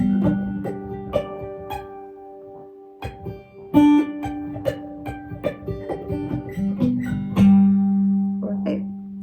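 Guitar harmonics ringing out on the strings, bell-like tones struck one after another in a slow sequence, each note sustaining and overlapping, with some talk mixed in between the plucks.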